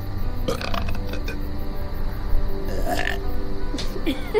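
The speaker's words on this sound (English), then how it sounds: "And he burps." A character in The Walking Dead video game lets out a burp at a dinner table scene, a few short guttural bursts over low background room noise and faint clinks, with no speech.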